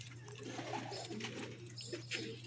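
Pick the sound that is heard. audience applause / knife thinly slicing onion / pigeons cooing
pigeons cooing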